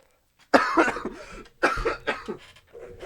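Two close, loud bursts of harsh coughing, each a rapid series of hacks, with short pauses between them.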